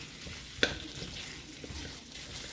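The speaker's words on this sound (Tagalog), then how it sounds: "ginigisa ko lang" Ingredients for chicken fried rice are sautéed in a pan, giving a faint sizzle with one sharp utensil clink early on and quieter stirring scrapes after it.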